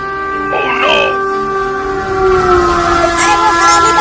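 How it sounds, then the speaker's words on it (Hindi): Cartoon train approaching along the tracks toward a tempo stalled on the rails, with steady sustained horn-like tones and rumbling over busy background sound at moderate loudness. "अरे उसने तो टेम्पो को ट्रेन की लाइन पर ही उतार दिया और आगे से ट्रेन भी आ रही है।"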